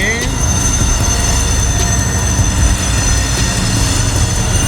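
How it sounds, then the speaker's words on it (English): A loud train rolls past nearby with a dense, steady rumble and clatter, thin metallic squeals riding on top throughout, constant and unbroken. "This dumb ass train, man"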